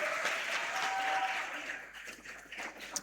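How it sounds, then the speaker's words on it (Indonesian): Audience applause breaks out at an Islamic boarding-school event, cheering Minhajut Thalibin; steady, dense clapping from a crowd fills the space, then thins and fades toward the end. "Tepuk tangan untuk Minhajut Thalibin"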